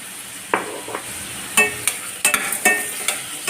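Tomatoes with salt and turmeric are sautéed in a pan for a prawn gravy, giving a soft sizzle broken by several sharp spatula scrapes and knocks as they are stirred, close and fairly loud.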